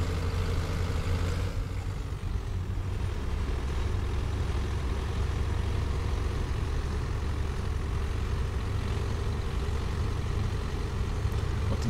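A PAZ-4234 bus engine idles and runs in the OMSI 2 simulator, a steady low diesel rumble that holds constant throughout with no talking.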